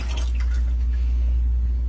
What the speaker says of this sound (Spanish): le vamos a poner otro poquito de agua, que por aquí la tengo